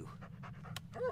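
A dog pants in quick, breathy bursts close by in the horror video game Blair Witch, set on a night walk through a forest, quiet and rhythmic with a faint voice underneath.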